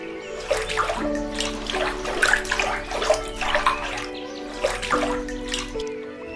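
Water sloshing and splashing as people bathe in the Ganges river, with steady watery movement throughout over a low continuous musical drone.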